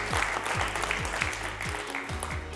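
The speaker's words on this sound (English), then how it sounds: "Please give him a big round of applause." Audience applause at a fintech panel event, a steady, moderately loud wash of clapping throughout with a faint low hum beneath.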